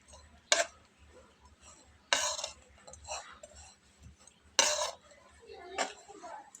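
Utensils clink and scrape in a bowl as boiled potato is mixed with black pepper powder and chaat masala, several sharp metallic knocks standing out over soft rustling mash sounds, with no one talking.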